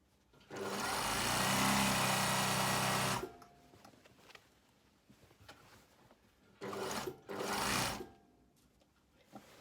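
A sewing machine stitches through layered fabric of a blazer: one sustained loud run of about three seconds up close, then quieter handling, then two short bursts in quick succession.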